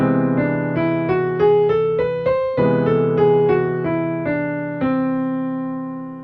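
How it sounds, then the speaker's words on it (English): Piano plays a Lydian augmented scale, notes climbing stepwise then descending over a sustained low major seventh chord, each note ringing clearly with a gentle decay, no voices present. "if we played that Lydian Augmented Scale in our right hand, it would sound like this"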